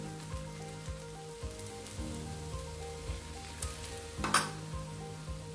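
A radish paratha roasting with ghee on a hot pan over high heat, a soft steady sizzle with faint periodic taps and one brief louder scrape near the end.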